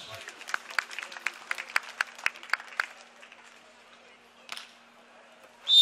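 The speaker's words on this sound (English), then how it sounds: "Give him a big round of applause." Scattered spectators clap at the Manila Open 2018 beach volleyball bronze medal match as a player prepares to serve; a dozen or so distinct, moderately distant claps fade after three seconds, followed by quiet and a sudden loud burst at the end.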